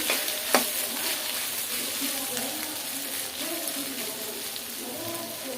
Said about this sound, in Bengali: এখন আবার আদা রসুনটা ভালো করে ভেজে নেব।